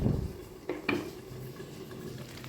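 A metal lid goes onto a pot of Dindigul Thalappakatti-style chicken biryani rice, making two quick, close clanks after a brief scrape, then a quiet background.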